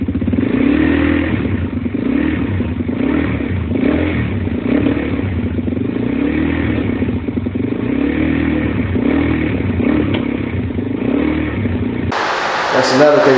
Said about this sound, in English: I have a video of the bike running that before he took the motor off of it.